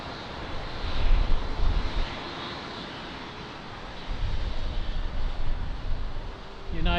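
Airbus A321 airliner crossing the runway at Lisbon Airport, a steady broadband engine roar with gusty low rumble swelling and easing over several seconds, moderately loud at a distance.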